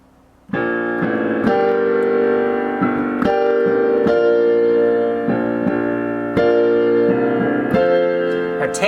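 Both hands play a song together on piano, left-hand root notes under right-hand melody and chords, struck in a steady rhythm with sustained ringing chords, loud and close, with no voices.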